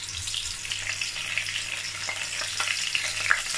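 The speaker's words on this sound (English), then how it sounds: "I'm going to add the onions" Onions and iru (fermented locust beans) frying in hot oil for efo riro, a steady dense sizzle with a few soft stirring knocks and pops, close and continuous with no talking.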